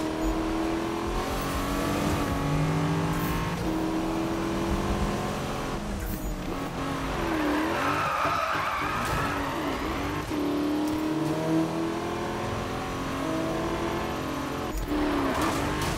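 A car in the video game Need for Speed (2015) on Xbox One drives continuously, engine revving and shifting pitch through acceleration and gear changes, loud and steady for the whole stretch with no talk over it.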